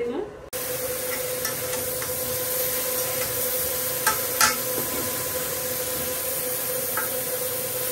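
Cauliflower goes into a pan of spice paste being fried for a Bengali curry, giving a steady close sizzle and stirring noise with a few brief scraping knocks.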